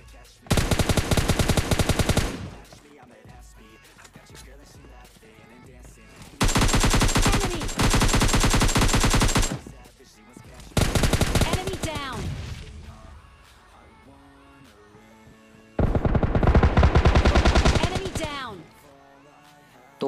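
Bursts of M4 assault rifle fire in a solo-versus-squad battle royale shooter on a mobile phone, four loud sustained volleys of rapid automatic shots lasting two to three seconds each, separated by quieter game ambience with a voice talking between.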